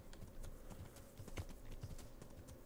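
Horse hooves clip-clopping on the ground in the game Kingdom Come: Deliverance, a quiet, steady rhythm of hoof falls at a walking pace.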